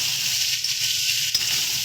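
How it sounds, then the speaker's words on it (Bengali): Steady hissing sizzle of chopped katoa stalks frying in oil, continuous and close, with a couple of faint clicks of stirring. "একটু হালকা ভাজা ভাজা করে নিচ্ছি"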